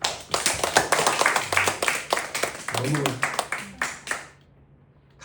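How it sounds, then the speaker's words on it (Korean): Church congregation at a Sunday morning worship service clapping in praise, a burst of many hands with irregular loud claps over murmuring voices, then stopping abruptly into near silence after about four seconds. "하나님께 영광 돌리는 박수."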